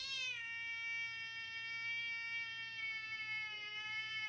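A cat meowing from a TV, one long steady drawn-out meow that stays clear and prominent, with no talking over it.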